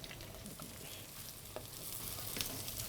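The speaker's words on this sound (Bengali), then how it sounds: "তেল আমাদের গরম হয়ে গেছে পেঁয়াজটা দিয়ে দিলাম প্রথমে" Onions sizzle in hot oil in a pan for a Bengali home-style dish, a soft, steady crackle with faint pops throughout and no voices.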